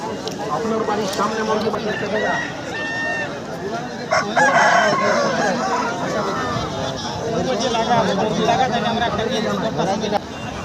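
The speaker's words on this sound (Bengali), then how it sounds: "দেখুন দেশি মুরগো রয়েছে ভরপুর আপনারা এই হাটে পেয়ে যাবেন" Native chickens and roosters cluck and crow at a busy rooster market in Purulia, a steady din of fowl calls with people talking loudly over them throughout.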